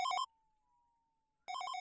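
A phone rings in short bursts of bright electronic trills, near and clear, with a near-silent gap between two rings.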